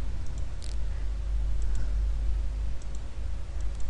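Computer mouse clicks at a desk, a few light sharp ticks spread across a few seconds over a low steady room hum.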